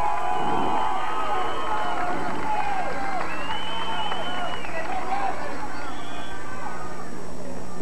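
Home crowd cheering and shouting at a high school volleyball match in Hilton, New York, near match point; loud sustained crowd noise with raised voices and a commentator talking throughout.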